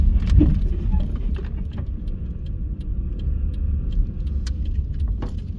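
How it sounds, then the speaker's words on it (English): A car rolls slowly into a Las Vegas gas station to refuel, its low engine and road rumble steady and close, with faint clicks and rattles over it and no one speaking. "I'm gonna pull in here real quick and fuel up."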